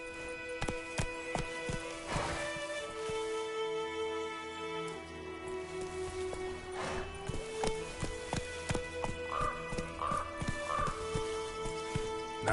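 Hoofbeats from Roach, the horse in The Witcher 3, clip-clop at a fast, steady rhythm as it runs, layered over game music with sustained tonal notes and occasional chimes.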